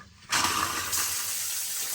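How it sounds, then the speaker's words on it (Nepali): Water sprays from a newly fitted shower in a modern bathroom, starting abruptly after a moment of quiet and then hissing steadily and loudly without voices. "यो पानी चाहिँ यसरी आउँछ सावरको।"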